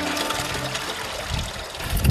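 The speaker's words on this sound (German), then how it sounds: "Vom zweiten Becken geht es über einen Badewannenstöpsel auf die Holzrutsche und das Wasser landet im letzten Spielbassin" Water flows steadily down a wooden slide into a children's play pool on a mobile wave-play setup, a continuous close splashing trickle without pauses.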